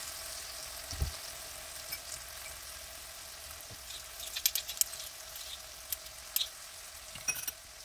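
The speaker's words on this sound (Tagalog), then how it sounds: "I-mix ito at i-simmer ng 1 minuto" A soy sauce, brown sugar, vegetarian oyster sauce and garlic powder mixture simmers in a pan, giving a faint, steady low sizzle broken by a few soft stirring clicks and scrapes.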